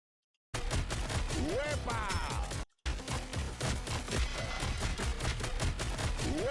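Rapid gunfire from The Hood, a hero in the Marvel Rivals video game, crackles loudly and continuously as a dense burst of shots with a brief break, mixed with swooping game effects.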